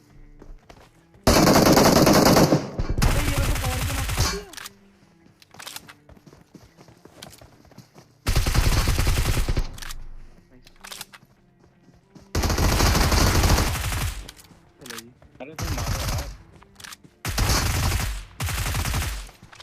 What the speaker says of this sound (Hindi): किसी ने राइट साइड से अभी यूएमपी चलाई